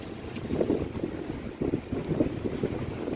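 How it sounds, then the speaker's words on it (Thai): Sea waves wash ashore at Phayun beach in Rayong on a quiet morning, heard as uneven rolling surges of water with steady wind buffeting the microphone throughout. "ทะเลสวยมากครับผมคลื่นซัดเข้าฝั่ง"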